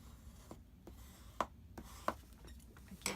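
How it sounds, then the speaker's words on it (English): Whisper White cardstock being folded in half and creased by hand, with soft rubbing strokes and a few sharp paper snaps at irregular intervals, close and quiet. "So let's fold this in half."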